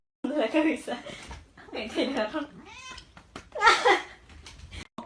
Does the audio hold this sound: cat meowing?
yes